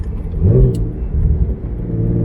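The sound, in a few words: turbocharged BMW E36 engine running and revving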